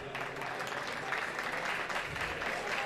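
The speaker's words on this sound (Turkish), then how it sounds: "sevgili Kemal Taş Beyefendi alkışlarınızla sahneye alıyor olacağım." A large audience at an evening award ceremony applauds continuously, a steady wash of many hands clapping in a reverberant hall.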